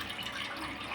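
Water pours steadily into a pressure cooker, a continuous rushing splash lasting about a second and staying even in level, with no voices.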